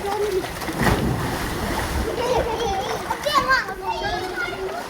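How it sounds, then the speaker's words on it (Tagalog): A child dives into outdoor water with a sharp splash, while other children chatter and shout nearby before and after the plunge. "Alis kayo dyan, magdadive siya, nagpa-practice."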